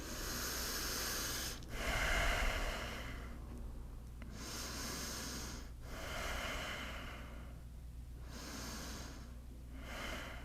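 Slow, full breaths during a yoga flow, heard close and alone: long airy inhales and exhales alternating in a steady rhythm, about five cycles with brief pauses between them.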